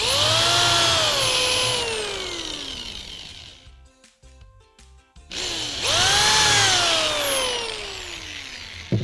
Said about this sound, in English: just going to drill my pallet holes once more.